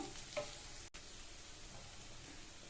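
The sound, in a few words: crushed garlic frying in a pan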